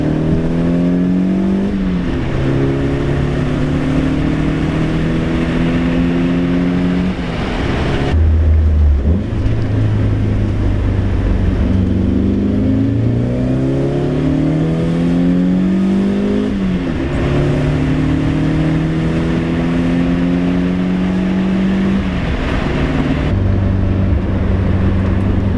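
An Audi B7 A4 with a K04 turbo accelerates hard through second gear in traffic, its engine note climbing steadily in long, loud, close-up pulls with gear changes and rising revs in between.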